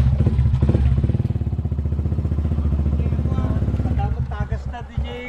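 A motorcycle engine idles close by in a repair shop, a steady rapid putter that slows and becomes uneven near the end, with people talking over it.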